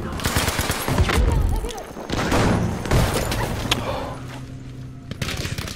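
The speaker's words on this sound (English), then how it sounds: "Oh, I just killed myself with my own grenade." A grenade blast and bursts of rapid gunfire in a Battlefield 5 match, heavy booming impacts and automatic weapon fire rattling close and loud throughout, with a player talking over the din.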